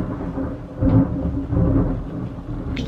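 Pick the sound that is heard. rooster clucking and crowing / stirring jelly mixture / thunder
thunder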